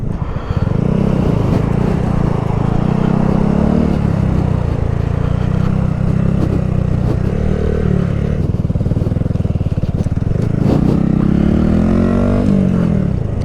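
Honda Grom motorcycle engine running steadily and loudly close by, a buzzy small-displacement drone that swells and dips with throttle, with no talk over it.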